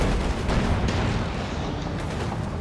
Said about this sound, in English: Is that 122mm cannon thunders into the Brombeer